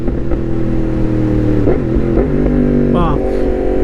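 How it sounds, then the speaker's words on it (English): A loud 2018 Yamaha MT-10 motorcycle with an aftermarket SC-Project exhaust rumbles nearby with a deep exhaust note, rising in a few quick revs, while other steady mechanical tones hum underneath. "This here is my 2018 Yamaha MT10 Crazy Iron Crash Cage SC Project exhaust."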